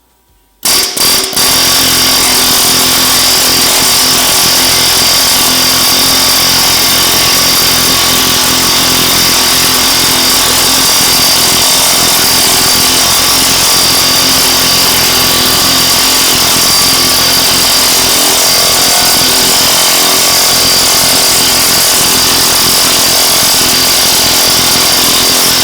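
In a motorcycle fabrication workshop, a power tool grinds metal with a loud, continuous, harsh roar that starts abruptly after a brief silence and holds steady without pause.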